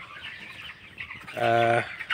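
Broiler chickens about 22 days old in a poultry shed on a cold day, with a short, clear clucking call rising over a soft background murmur of the flock.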